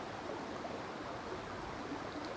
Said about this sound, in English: One last listen to the water